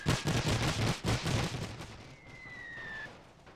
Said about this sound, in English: So the machine gun is now firing at the cavalry.